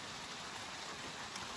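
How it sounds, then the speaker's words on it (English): Steady, faint rain falls outside a mine shed at a mountain mine, a constant soft hiss of drops on surfaces with no voices. "it just started raining"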